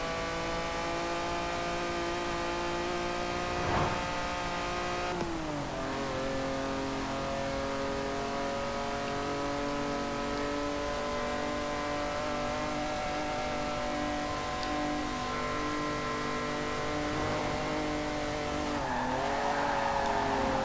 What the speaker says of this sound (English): So I'll let you just listen to the engine for a little bit